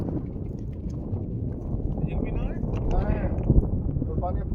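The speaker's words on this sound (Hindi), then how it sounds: "भाई क्या खतरनाक हवा चल रही है रे तेरी।" Strong mountain wind on a road trip to Spiti Valley, gusting and buffeting loudly against the microphone while a voice speaks underneath.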